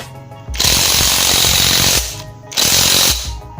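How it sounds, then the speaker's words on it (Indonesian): A pneumatic impact wrench hammers on a stripped, slipping bolt in two loud close bursts, about one and a half seconds and one second long, with a short pause between them. "sekarang kita coba gunakan impact ya, dia mau dol atau enggak"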